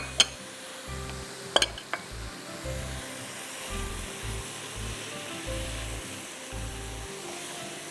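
Mince sizzling and frying in a pan with mushrooms and flour, a steady quiet hiss broken by a few sharp clinks of a utensil near the start.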